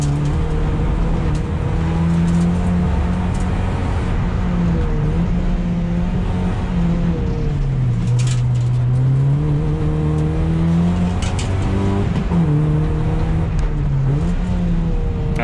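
A Toyota Yaris with new upgrades laps the Curborough sprint course figure of eight, its engine droning loud and close from inside the car, pitch rising and dipping through gear changes and corners.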